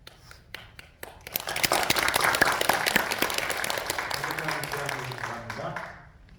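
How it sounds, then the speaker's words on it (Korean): Audience applause in a church service welcoming a visiting senior pastor, beginning with a few scattered claps, then swelling into sustained clapping that holds steady for several seconds before tapering off near the end. "박수로 환영해 주시기 바랍니다"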